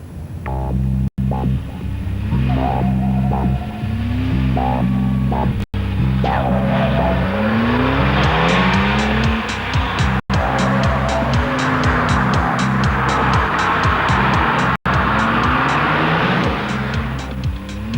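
A car drives a country road through the Yorkshire Dales on a Saturday morning, its engine loud and close, revving up and dropping back with each gear change and faint tyre noise.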